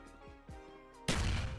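A grenade explodes in a Roblox first-person shooter: a couple of light bounce thuds, then a sudden loud broadband blast with a rumbling tail filling the last half second.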